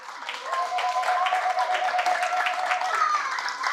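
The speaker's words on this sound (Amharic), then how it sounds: "እስኪ ሞቅ ባለ ጭብጨባ አመስግኑልኝ" Warm applause from an audience welcoming guests at a Christmas celebration event, steady dense clapping throughout with a faint sustained tone running beneath.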